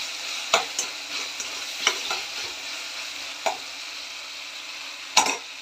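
Spices with turmeric fry and sizzle steadily in a pan, broken by a few sharp scrapes and clinks of a spoon stirring, close and without talk.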